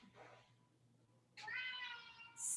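A cat lets out a drawn-out meow that starts abruptly and rises toward a brighter, louder end, close and clear over a quiet room.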